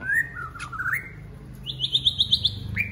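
Bright, high chirps and whistles of a jalak riuri starling, a few drawn-out calls followed by a quick run of repeated sharp chirps, close and clear over faint background noise.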